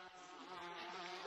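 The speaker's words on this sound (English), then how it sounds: "The bees! They're back!" Buzzing bees in the Gorilla Tag VR game, a continuous droning insect hum at low level, close and unbroken for about a second with no voices over it.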